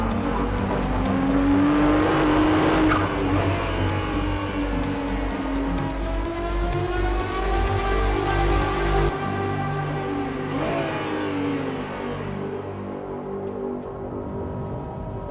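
A 2022 Ferrari 296 GTB, an 818 hp V6 hybrid sports car, drives hard with a loud, high-revving engine note that climbs and shifts, tires squealing, before the sound cuts to a quieter, steadier run.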